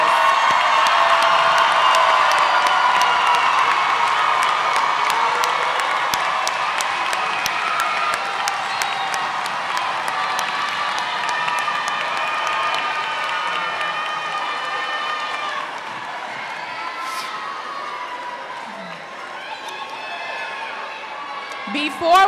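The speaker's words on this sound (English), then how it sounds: "Let's give the class of 2026 another round of applause." Graduation crowd at a high school ceremony applauding and cheering, with whoops and shouts over dense clapping that stays loud, then gradually eases off toward the end.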